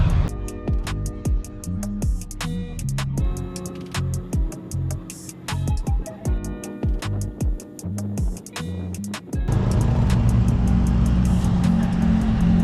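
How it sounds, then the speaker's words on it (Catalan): A bus engine rumbles and revs as the vehicle pulls away on a road in El Salvador, a steady close drone with rhythmic clatter and gear changes, swelling louder toward the end with no talk. "Quasi ja només pujar ja està sortint l'autobús."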